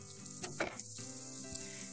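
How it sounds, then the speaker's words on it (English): Steady sizzling and crackling of risotto rice toasting in a hot pan, close up, with a brief stirring scrape midway. "almost get it to the point where you're kind of frying the rice a little bit"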